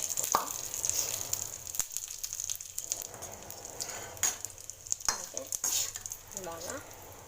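Roasted gram and poha are stirred in a pan with the gas off, giving a soft continuous sizzle broken by scraping and clattering knocks of a spoon against the pan.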